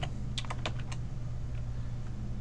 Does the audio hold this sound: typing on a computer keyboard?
yes